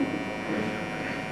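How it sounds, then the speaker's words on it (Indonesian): An electric detailer trimmer buzzes steadily and fairly close during a haircut, with a faint voice in the background. "Di sini kita menggunakan detailer atau trimmer detailer"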